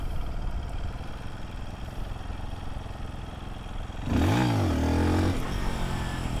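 A worn, clapped-out two-stroke motorcycle held in first gear, idling steadily before it revs up sharply, then drops back to a lower, steady drone; close and loud.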